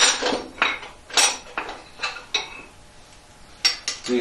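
Metallic clinks and taps from a tool loosening the adjustment screws on a steel angle plate in a machine shop, about a dozen separate sharp knocks spaced irregularly, close and fairly loud with no talk.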